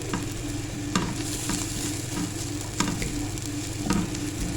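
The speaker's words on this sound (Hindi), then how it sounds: "इसको हमने सिर्फ सोते करना है, इसका कलर चेंज हो जाए" Chopped onion sautés in a pan, a steady close sizzle broken by periodic scrapes and clicks of a spatula stirring.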